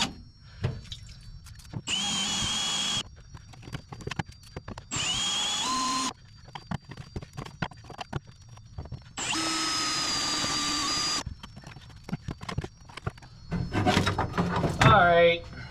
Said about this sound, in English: This is a spot weld bit, by the way.